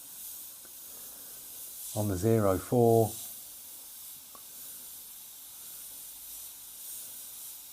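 Steady airbrush hiss from an Evolution X airbrush spraying paint at 20 psi with the 0.4 nozzle, a soft continuous spray close by, briefly interrupted by a man's short spoken remark.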